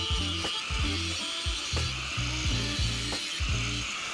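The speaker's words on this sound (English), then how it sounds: "Now to cut the vent holes." Vent holes are cut into the sheet metal lid of a 5-gallon metal bucket smoker, making steady rhythmic rasping strokes that repeat several times a second, close and loud.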